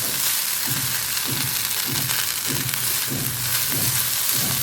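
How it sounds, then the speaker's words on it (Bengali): Flattened rice (chira) fries with dry fruits in ghee over medium-high heat. A steady sizzle runs throughout, with rhythmic stirring or scraping strokes roughly every half second, close and moderately loud. "দিয়ে চিঁড়েটাকে একটুখানি ভেজে নেবে।"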